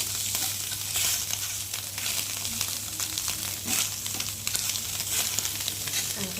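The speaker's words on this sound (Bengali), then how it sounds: "শুধু মাছটা ভাজতে গেলে এই সবসময় করে ভাজলে ভালো হয়" Small fish fry in oil in a round kadai with a loud, steady crackling sizzle and occasional scraping from stirring, heard up close without talk.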